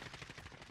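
Rapid submachine-gun fire in a video game, a fast continuous burst of shots in a tight rhythm, fairly faint and brief.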